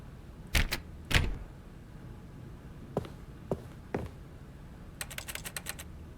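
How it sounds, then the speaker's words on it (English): Keyboard typing from the video game The Stanley Parable: Ultra Deluxe, a few sharp isolated key clacks spread out, then a quick rapid burst of light clicks near the end, fairly quiet with no talk. "It sounds like a keyboard."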